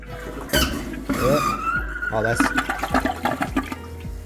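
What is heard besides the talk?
toilet first flush with air in the water line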